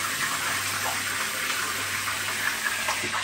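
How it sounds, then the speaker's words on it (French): Water pouring steadily into a cooking pot while a meal of corn and young turkey is prepared, a continuous close splashing gush with no talk over it. "On va mettre de l'eau."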